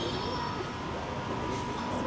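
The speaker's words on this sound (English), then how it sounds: "It's driverless train." Driverless metro train in Qatar rumbling steadily on its rails, a continuous close mechanical drone with people talking over it.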